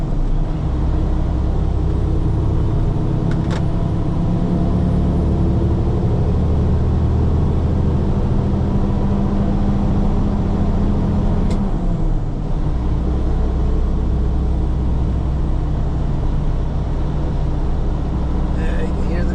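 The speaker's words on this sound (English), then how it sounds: "you can hear the truck is working with its weight" A heavy truck loaded to 80,000 pounds labours in slow bumper-to-bumper traffic, its engine a loud, continuous low drone with a shift in pitch partway through, heard from inside the cab.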